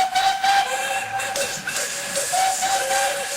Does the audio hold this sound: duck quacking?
no